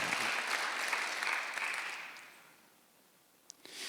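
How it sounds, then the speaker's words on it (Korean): Church congregation at Sunday worship applauds in a full, even burst of clapping that fades away after about two seconds, leaving near quiet broken by a couple of faint knocks. "박수 하나 돌리시기 바랍니다"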